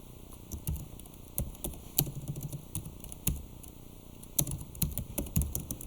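Clicky keystrokes on a computer keyboard, irregular taps and short runs of typing, close and quiet over faint electrical hum.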